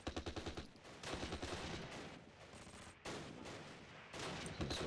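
Soldiers firing guns in the war game Close Combat: The Longest Day, rapid rattling bursts of gunfire repeating in uneven clusters, fairly distant and quiet.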